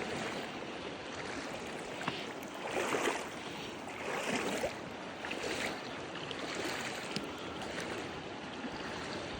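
Steady rushing river water flowing fast around knee-deep wading, a broad continuous wash of noise with gentle surges, moderately close and unbroken by speech.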